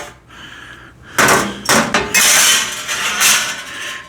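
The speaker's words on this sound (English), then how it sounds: "since it has 2 trays, throw 1 tray in the bottom to catch the drippings" Metal trays set into a Nuwave Bravo Pro toaster oven air fryer, a few sharp metallic clanks and scrapes up close, one after another, with no talking.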